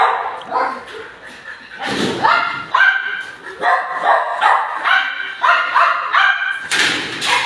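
A police search-and-rescue dog used in earthquakes barks repeatedly and loudly up close, sharp barks mixed with higher yips and whines, with a voice briefly heard under the barking.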